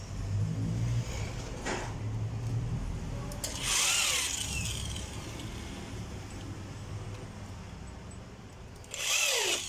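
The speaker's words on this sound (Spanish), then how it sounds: "Ustedes utilizan taladro o destornillador de estrella en este caso." Power drill or screwdriver driving screws into industrial furniture hardware, several short whirring bursts that rise in pitch, close and fairly loud, separated by quieter handling noise.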